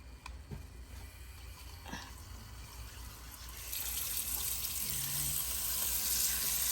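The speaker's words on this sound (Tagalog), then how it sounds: "lagay tayo ng tubig" Water from a hose running into a cooking pot, starting as faint trickling splashes and swelling into a steady, louder hiss of filling, close by with no talk.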